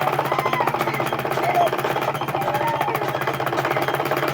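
A tailor's sewing machine top stitches a welt pocket with rapid, evenly pulsing needle strokes, running steadily and fairly close throughout.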